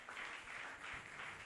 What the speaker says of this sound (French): Acclamons la parole du Seigneur.